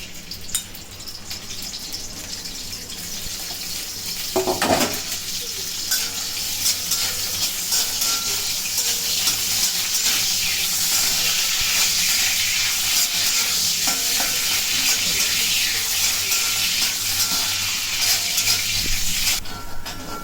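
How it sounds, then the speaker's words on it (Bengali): Dried red chillies and garlic sizzling in hot oil in a kadai, a steady loud crackling fry with an occasional clink of a spatula stirring, building after a sharp clatter near the start. "শুকনো লঙ্কা আর রসুন ভেজে নেওয়া হবে।"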